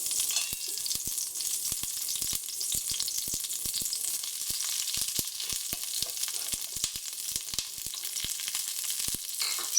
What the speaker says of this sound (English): add the cauliflower floret